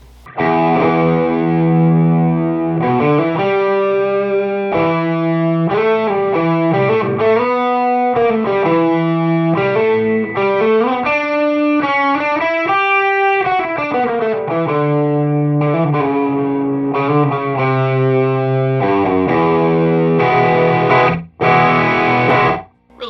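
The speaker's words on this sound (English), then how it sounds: "Let's go ahead and add the tube screamer." Electric guitar through a Tube Screamer overdrive and a Rivera 2x12 cabinet with Celestion speakers plays a melodic line with thick, saturated distortion, sustained notes and bends, loud and steady throughout with no voices.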